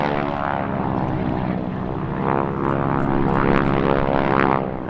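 Three radial-engine propeller aircraft fly past at the Duxford airshow, a loud, steady, rich drone that swells gently toward the end with no voices.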